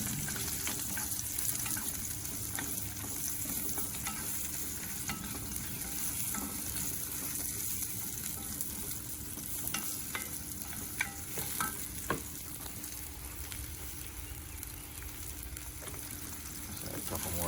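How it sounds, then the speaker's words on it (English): Mushrooms sautéing in olive oil make a continuous, close crackle and sizzle with light stirring clicks, while a person talks over the cooking now and then. "I'm going to saute these, soak up some of that oil"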